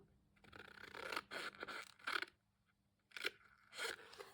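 Scissors cut paper up to a score line in several short, crisp snipping and scraping strokes, grouped into bursts with brief pauses, close and fairly quiet.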